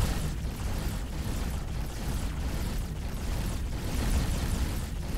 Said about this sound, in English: Full reverse, so we get a little bit out of the explosion radius.